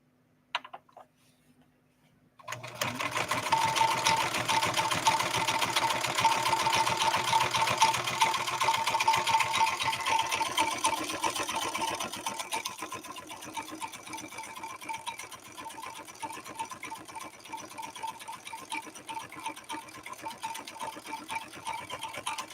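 A 1970s Kenmore 158.13520 sewing machine starts up after a brief pause and stitches through leather in a fast, steady mechanical whir, loud and close, easing to a slightly lighter running rhythm partway through.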